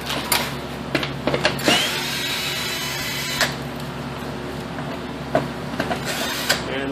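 Hand tools and a ratchet working 8mm bolts off the starter of a 2001-2005 Ford Taurus with the DOHC 3.0 engine, heard as close, loud clicks and metallic scrapes in short irregular bursts.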